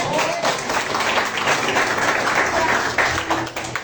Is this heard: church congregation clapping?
yes